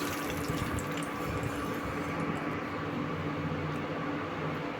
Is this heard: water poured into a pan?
yes